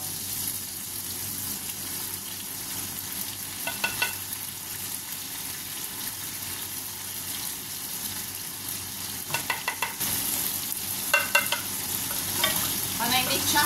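Cooked tomatoes fry in oil in a pan, a steady low sizzle with scattered clinks and scrapes of a utensil stirring, growing a little louder toward the end.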